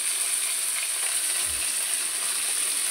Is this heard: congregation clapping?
no